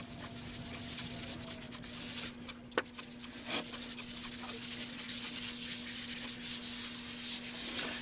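Yorkshire Grit microfine abrasive is pressed onto an almond wood calabash bowl spinning on a lathe, making a continuous, close, soft rubbing hiss over a steady motor hum, with a few brief scratchy accents.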